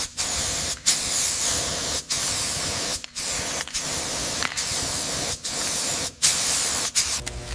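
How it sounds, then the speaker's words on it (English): Spray paint hisses onto a Thomas the Tank Engine toy being restored, in a series of steady bursts of about a second each separated by brief pauses, close and clear with no talking. "making sure to get an even spray pattern"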